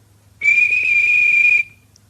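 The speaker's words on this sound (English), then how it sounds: "The guard waved his flag and blew his whistle." A railway guard's whistle gives one sustained, shrill blast of about a second, loud and close, ending cleanly with no voices over it.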